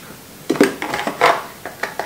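A bamboo suction bowl and its spoon are picked up and knocked together, giving a quick series of light, hollow wooden clacks and taps close by, irregular and brief.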